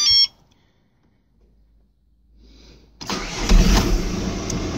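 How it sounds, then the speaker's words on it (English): A Volkswagen Passat 3C with a BKP diesel engine cranks and fires after a quiet pause, then settles into a loud, steady close idle with a faint beep earlier on. "Car is starting"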